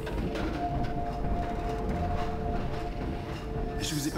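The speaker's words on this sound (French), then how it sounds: "Nous voilà dans le métro parisien" A Paris metro train in the Half-Life 2 video game played on an Oculus Rift, a steady loud rumble of rolling carriage with a sustained whining tone throughout, a brighter hiss rising near the end.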